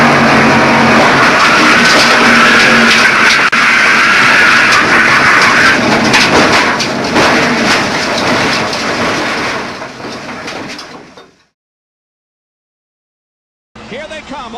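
NASCAR stock cars roar through a corner during the Winston 500, a dense, loud continuous rumble with crowd noise and commentary that fades out, drops to silence, then briefly returns.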